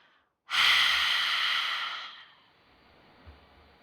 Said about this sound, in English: Let's take one last deep breath in through your nostrils and release it all out through your mouth